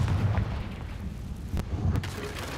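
A Confringo fire spell from Hogwarts Legacy bursts in a couple of deep booming blasts with sharp cracks, moderately loud, and the rumble lingers between the hits.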